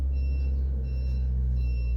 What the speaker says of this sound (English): you're hearing the trucks backing up out there